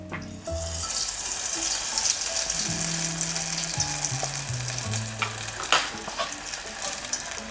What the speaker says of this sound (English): It's tempura batter and it's courgette flour, so it fries super fast, less than a minute.